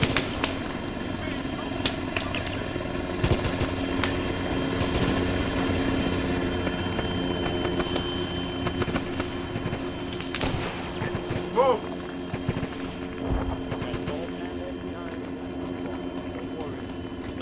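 A helicopter in the Arma 3 Antistasi video game drones with a continuous rotor hum and engine whine under game effects, while people speak over it throughout.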